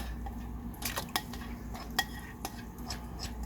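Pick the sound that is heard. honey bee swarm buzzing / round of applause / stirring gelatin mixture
stirring gelatin mixture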